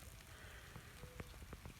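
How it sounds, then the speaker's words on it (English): Rain falls on a big pasture where old hay wagons are being moved. It makes a faint, steady hiss with scattered soft drop taps that grow a little more frequent toward the end. "now it's starting to come down heavier"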